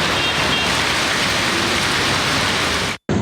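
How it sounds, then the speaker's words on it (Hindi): Steady, loud rain pouring in Islamabad, a dense continuous hiss of drops on surfaces that cuts off abruptly near the end. "इस्लामाबाद और रावलपिंडी में वक्फे वक्फे से कभी तेज और कभी हल्की बारिश का सिलसिला जारी।"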